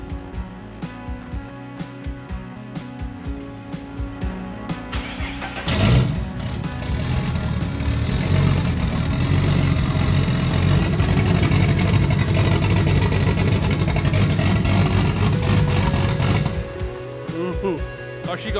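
A Ford Barra engine fitted with cams starts up after a quieter stretch of background noise, then idles and revs loudly and close for about ten seconds before dropping back, while people talk around it.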